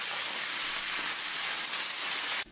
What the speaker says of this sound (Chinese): 再加入滚烫的开水